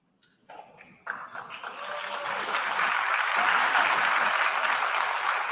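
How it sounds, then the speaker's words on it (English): Applause in the UN General Assembly hall: a few first claps grow within about a second into a dense, sustained roar of clapping from a large crowd that stays loud and even to the end. "Thunderous applause from every country."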